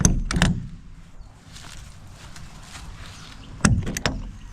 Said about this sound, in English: Gas struts ensure the door opens by itself.